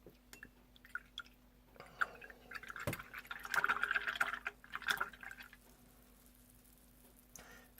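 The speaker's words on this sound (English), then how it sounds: "these brushes, I can hear them swirl in that water a lot better than I could hear the other ones" Watercolor brushes swirl and tap in a water cup, making soft wet sloshing and dripping sounds that build into a busier patch of splashing midway before settling back to quiet.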